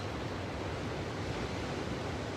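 Ocean surf at sunrise, a dense and continuous wash of breaking waves heard as a broad steady roar with no distinct individual breakers.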